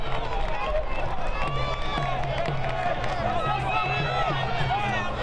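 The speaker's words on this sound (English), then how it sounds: "The crowd urging Tormenta on here." Home supporters of South Georgia Tormenta FC fill a soccer stadium with a steady wash of crowd noise, cheering and scattered clapping, while close commentary talks over it throughout.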